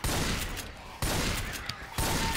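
Gunfire in Left 4 Dead on its hardest mode: three loud, evenly spaced shots about a second apart, each followed by a dense, roaring decay.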